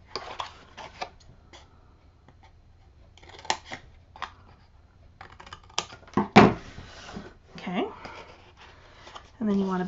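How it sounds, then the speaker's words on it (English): Scissors snip through chipboard in sharp, irregular clicks and crunches while trimming mitered corners for a mini album, with one louder cut standing out and a person talking throughout. "All I'm doing is putting my scissors against the edge of the chipboard, pivoting ever so slightly and getting that mitered."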